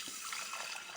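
Water pours steadily over moong dal and samba wheat rava in a pressure cooker for rinsing, a close, continuous splashing wash with no one speaking.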